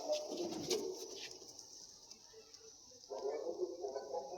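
Soft, low pigeon cooing comes in short murmuring phrases, with a thin steady hiss behind it.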